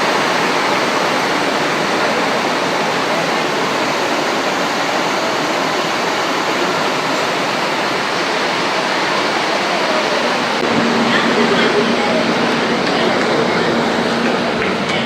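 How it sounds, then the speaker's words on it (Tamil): Heavy rain pours down at a railway station platform in Kerala, a dense, loud, continuous hiss filling the whole stretch, growing slightly stronger near the end with a low rumble beneath. "மழை பாருங்க"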